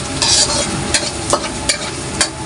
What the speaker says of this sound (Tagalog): gigisa ko na yung sibuyas,